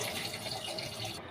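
Running tap water splashing over raw mutton as it is washed, a brief, soft, steady gush with no voices.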